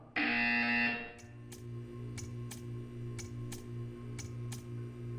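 A loud electronic buzzer in the video game Portal 2 sounds for about a second, followed by a steady hum with regular ticking clicks.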